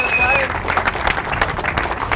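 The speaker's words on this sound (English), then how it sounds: "Give him a big round of applause." An audience applauds the winner at a results announcement, a broad burst of clapping that fills the whole stretch, steady and fairly loud, with a voice heard briefly at the start.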